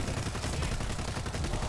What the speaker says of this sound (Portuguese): Eu tô atirando.